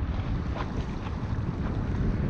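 A dinghy motoring across open water toward the Oil Nut Bay resort on Virgin Gorda in the British Virgin Islands, heard as a steady low rumble of hull and water under heavy wind buffeting the microphone, with no speech.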